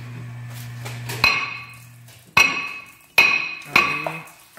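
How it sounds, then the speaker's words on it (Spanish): Four sharp metallic hammer strikes ring out on a rusted brake rotor of a 2009 Mazda 3, each with a bright clanging decay, spaced about a second apart. "Le pegamos con un martillo para que afloje un poco el óxido."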